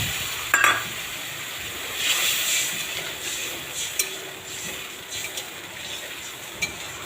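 Water poured into a pan of sautéing vegetables for brinjal bora curry, a soft steady sizzle and hiss with a few light clinks of a spoon against the pan.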